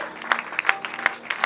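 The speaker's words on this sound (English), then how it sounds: "can we clap our hands for the Lord of God?" Worship congregation clapping for the Lord at a gospel ministration event, a brief burst of crowd applause with distinct sharp claps standing out, fairly close.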